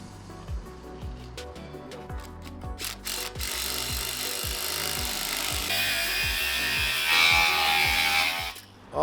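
A cordless power drill bores holes for a sign post, a rhythmic low thumping under a rising whine and grinding, building into a dense, continuous drilling noise before stopping abruptly.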